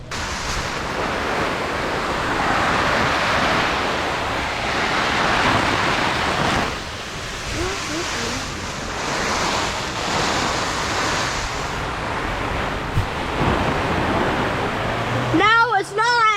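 Rain drumming steadily on an inflatable four person tent, a dense, close wash of noise with wind buffeting the microphone, and people talking over it near the end.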